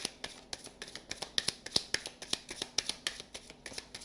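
Tarot cards being handled and a card drawn from the deck make a quiet, quick series of crisp flicks and taps, close by, with no talking.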